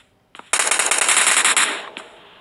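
Rapid automatic gunfire in a shooting video game, one loud sustained burst of about a second after a brief single shot, then a shorter shot and fading echo, with no talking.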